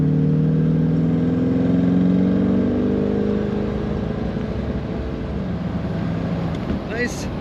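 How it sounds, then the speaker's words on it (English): A 1974 Chevrolet Corvette Convertible engine drones steadily with a deep exhaust note while driving, pitch shifting between automatic transmission gears, and someone speaks over it. "Nice firm shifts in the automatic transmission of this car. Great exhaust sound."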